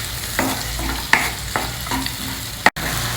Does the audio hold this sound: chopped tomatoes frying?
yes